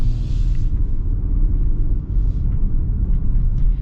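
A 2026 Genesis GV70 Sport Prestige with the 3.5T engine accelerating: a steady, deep engine rumble heard from inside the cabin, continuous and fairly loud for about four seconds with no talking.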